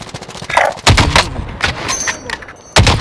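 Video game gunfire comes in a few loud, sharp bursts of shots, with brief gaps between them and a final crack near the end.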